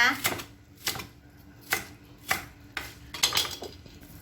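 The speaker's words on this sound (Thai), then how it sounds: "หั่นผักเลยค่ะ" Quick, uneven knife chops through vegetables, including baby corn, on a cutting board, close by, with a few clatters of utensils between cuts.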